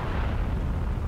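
An explosion in the WWII shooter Heroes & Generals, a heavy rumbling low boom that fills the whole brief moment with dense roar, loud and close, without any talk.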